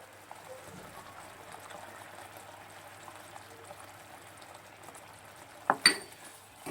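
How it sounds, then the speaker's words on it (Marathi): Saffron water goes into coconut rice cooking over medium heat, a low, steady bubbling simmer with faint clinks, broken near the end by a brief, louder splash as the liquid hits the pan. "ह्याच्यामध्ये आता आपण हे केशरचं पाणी घालणार आहोत"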